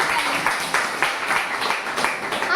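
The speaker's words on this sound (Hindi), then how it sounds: "तो जोरदार तालियों से स्वागत है" A classroom applauds to welcome a classmate, with a burst of uneven clapping from a small group close by that carries on steadily for a few seconds.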